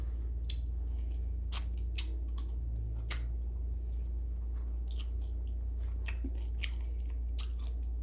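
Wingstop chicken wings being bitten and chewed up close at a mukbang, with wet crunches and smacking bites repeating irregularly over a steady low hum.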